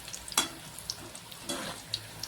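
Fenugreek leaf pakoda frying in hot oil on a medium gas flame: a close, soft sizzle broken by a few sharp crackling pops and spits.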